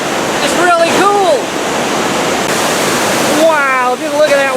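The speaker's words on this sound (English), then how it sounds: "just look at that water as it hits the bottom of the falls and creates mist" Heavy waterfall roar at the Vickery Creek dam as water crashes onto the bottom of the falls, a loud continuous rushing wash with people talking over it.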